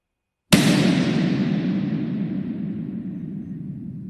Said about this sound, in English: then we hear echoes of that initial impulse as they reverberate through the room and back to the microphone